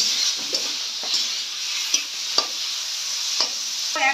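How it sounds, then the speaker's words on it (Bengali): Turmeric and green chilli paste frying in a pan for a cauliflower, potato and puti fish curry, with a steady close sizzle broken by several sharp spoon scrapes as it is stirred, no voices. "এবার এটাকে ভালো করে কষাতে হবে।"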